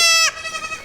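Goats in a scene from the TV show Severance give a loud, strained bleat that cuts off sharply, followed by fainter wavering bleating close by.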